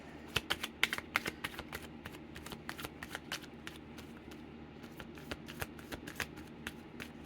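Rapid, crisp riffling and slapping of a tarot card deck being shuffled, bursts of sharp clicks repeating steadily close by with no talking.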